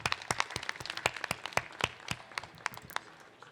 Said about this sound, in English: please give a round of applause to the all project